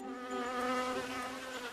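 A buzzing bee sound effect plays in a quiz, a steady, close insect drone with a bright harmonic whine that holds for the full moment with no voices.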